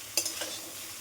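Bottle gourd pieces stirred in a frying pan, a single sharp scrape of the spoon followed by a few softer scrapes over a steady, quiet sizzle.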